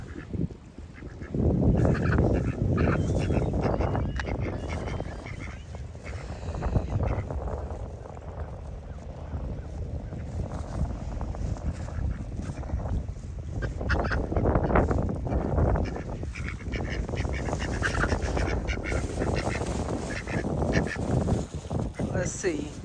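Ducks and geese honking and quacking at a windy lake, heard close and fairly loud through steady wind noise, with a person talking at intervals over the birds.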